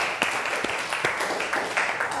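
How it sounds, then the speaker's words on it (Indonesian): A classroom of children claps hands together, a quick, uneven patter of claps at moderate loudness that lasts only a couple of seconds. "Silakan tepuk tangan dulu."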